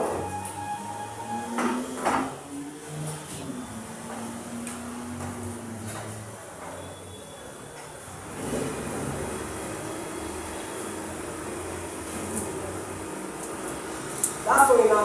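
A sewing machine runs a stitch along a trouser seam, a steady close mechanical whir and hum that drones on with small shifts in pace, and a voice can be heard at moments.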